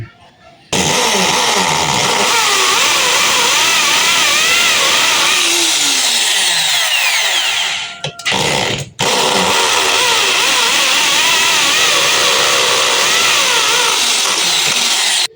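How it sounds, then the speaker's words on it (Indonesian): An electric drill whines loudly and continuously, its pitch shifting as it bores into a wall, briefly stopping twice before resuming at full speed. "ini kita bor di sini"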